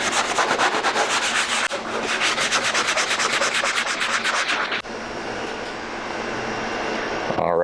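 Fine sandpaper rubs by hand across a drywall patch in fast, steady back-and-forth strokes, close and continuous, with a brief break partway through.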